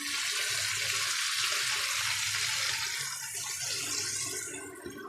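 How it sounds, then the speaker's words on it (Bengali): Water poured steadily into a cooking pan holding fried potato and eggplant for a hilsa fish curry, a continuous close splashing rush that tapers off near the end. "এবার আমি জল দিয়ে দিচ্ছি।"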